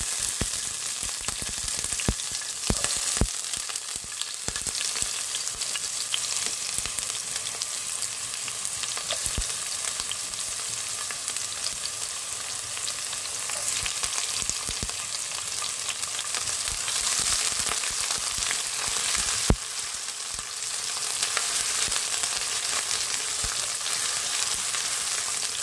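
Chopped onion sautés in a hot pan with garlic, giving off a steady, close sizzle and crackle with occasional stirring scrapes throughout.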